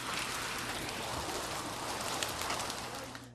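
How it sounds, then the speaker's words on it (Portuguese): Hail pounds on parked cars and buildings during a storm in São Paulo, a loud, dense, unbroken roar of impacts with scattered sharper strikes standing out from the constant drumming. "O barulho do granizo atingindo os carros que estavam estacionados e as construções era"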